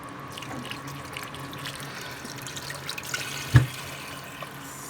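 Tap water runs steadily into a sink as bay leaves are rinsed for a rice dish, a continuous soft splashing hiss with one brief louder knock or clatter near the end, close by with no talking.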